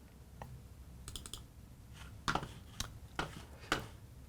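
Mouse clicks on a Mac while launching Terminal from Spotlight: a few quiet, sharp clicks spread across a few seconds, with a quick cluster of light taps near the start and no talking.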